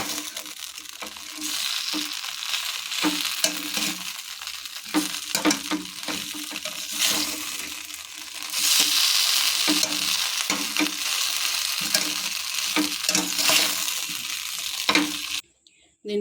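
Cauliflower for gobi manchurian is stirred in a sizzling pan, with repeated scraping and tossing strokes over a continuous frying hiss that grows louder midway, close up with no talking.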